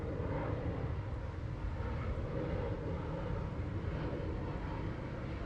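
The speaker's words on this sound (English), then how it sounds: "You might even hear some jet planes." Jet planes passing overhead during a morning walk at Yorkeys Knob, heard as a steady, continuous broadband roar that holds level throughout with no break.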